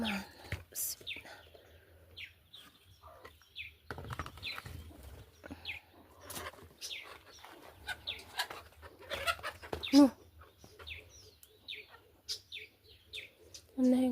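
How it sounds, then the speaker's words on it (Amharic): Chickens cluck and call in the early morning just after their coop is opened, with scattered bird chirps. The bursts come close and irregular across the clip. "ዛሬ ገና ከእንቅልፌ ተነስቼ የከፈትኳቸው ነው ዶሮቹን"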